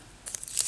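Scissors snip through paper trim for a boho-style book page cover, a few quick close cuts and tearing crackles in a short burst.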